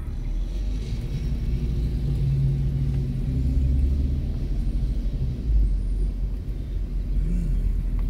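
A road vehicle passes close by with a heavy, low rumble that swells and holds, then fades slightly near the end.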